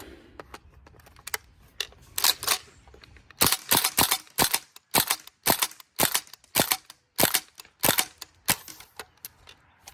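A Tokyo Marui SAIGA 12K gas airsoft shotgun fires a long string of sharp, snappy pops in a quick, fairly even rhythm, close up and with no talking.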